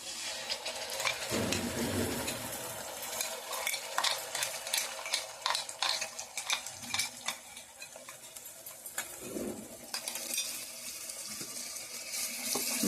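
Chicken and masala frying in a pan with browned onion, a close hissing sizzle broken by clattery stirring scrapes that swell and fade, no talking heard.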